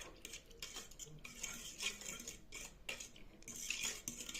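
A fork stirs yeast in a bowl to dissolve it for homemade Easter bread, with quick scraping and light clinking against the bowl in uneven bursts, close and fairly quiet, with no voices.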